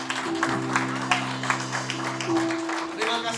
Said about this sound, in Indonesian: Berikan tepuk tangan sekali lagi buat Tuhan.